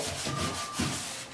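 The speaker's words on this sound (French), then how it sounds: "on reprendra le couteau pour glacer par-dessus en écrasant" Steel knife scraping and pressing across lime stucco plaster to smooth and glaze it, a close, continuous gritty rubbing with a few rhythmic strokes.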